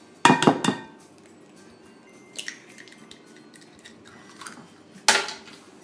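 Eggs being whisked into banana bread batter in a bowl, with a few sharp clinks of utensil against the bowl at the start, a faint knock midway and another bright clatter near the end, quiet scraping between.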